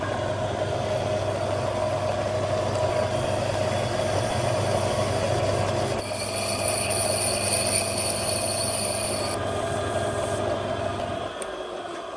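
A metal lathe spins a billet part, cutting the inside and outside to fit a bearing for a TD5 Defender project, with a steady mechanical hum and whine running throughout at constant, close volume and a shift in tone partway.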